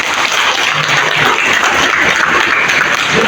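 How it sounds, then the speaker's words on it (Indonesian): An audience at an Indonesian credit cooperative's annual members' meeting applauds in a loud, continuous roar of many hands, with a faint voice underneath. "boleh kita beri tepuk tangan untuk koperasi kita"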